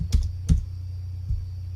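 Three separate keystrokes on a computer keyboard, close and distinct over a steady low hum, while a laptop battery listing is being searched.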